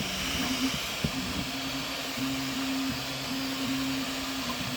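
A FlashForge Adventurer 5M 3D printer runs nearby with a steady fan hiss under stepper-motor tones that hum in short stuttering runs as the head moves.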